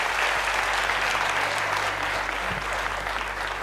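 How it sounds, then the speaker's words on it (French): A room full of people applauds during a public café-style gathering, a dense, steady burst of clapping lasting a few seconds and slowly tapering. "Applaudissements."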